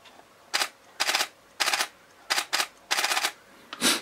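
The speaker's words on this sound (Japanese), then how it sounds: "シャッター切ってみますか" A Canon camera fitted with a freshly repaired Canon EF24-105mm lens fires its shutter in a quick series of about six crisp mechanical bursts, some single and some in rapid doubles, close and alone without speech.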